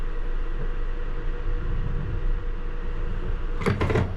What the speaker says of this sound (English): no one's getting on or off, so we'll close the doors